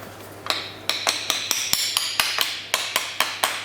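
Repeated hammer blows on metal in a workshop during an 8-speed automatic transmission swap into a BMW E36, about a dozen sharp, fairly evenly spaced strikes ringing out close and loud with no talk.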